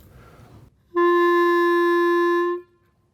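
A single-reed woodwind instrument holds one sustained note, steady and fairly loud, for over a second and a half before stopping cleanly, with no other sounds.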